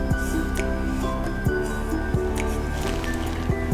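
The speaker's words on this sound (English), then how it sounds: "we're gonna take this butter here and we're gonna rub it into the flour mix." Bare hands rub butter into a flour mix in a bowl, a close, continuous soft rustling and squishing with small rhythmic scrapes and a few light taps.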